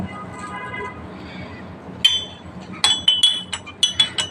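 A spoon clinks against a glass while honey is stirred into a healthy homemade drink, a string of bright, sharp taps in the second half following quieter kitchen background.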